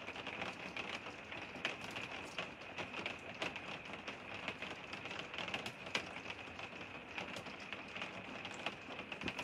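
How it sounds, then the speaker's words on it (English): Rain falls steadily outdoors, a constant hiss with faint scattered drops, heard from indoors at low level with no talk. "It's raining pretty good out there."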